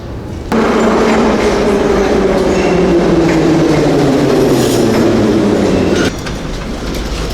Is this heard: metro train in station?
yes